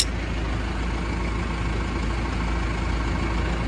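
A farm tractor used with a hay mower sits idling nearby, its engine giving a steady, loud low rumble with no change in pitch and no talk over it.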